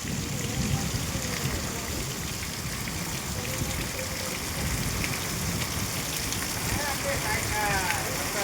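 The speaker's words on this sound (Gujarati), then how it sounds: "હા 15-20 મિનિટથી વરસાદ ચાલુ થયો છે." Heavy rain pours down on a farm, a dense steady hiss close around, with voices talking over it.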